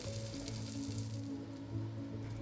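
Onion sizzles in hot oil with spices for a couple of seconds, a faint but steady, close frying hiss with no voices.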